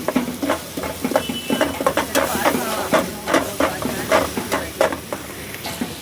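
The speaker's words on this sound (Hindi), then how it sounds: "देखो तड़का भूज रहा हूँ।" Tempering spices sizzle and hiss in hot butter for aloo gobhi, with repeated stirring scrapes and bursts of crackle, close and fairly loud, no talking.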